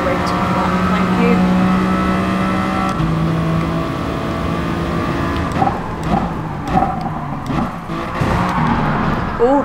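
A BMW Vision Gran Turismo race car in an online Gran Turismo Sport race gives a loud, sustained engine drone that holds steady, then shifts pitch and breaks into rougher bursts as it changes gears and races on.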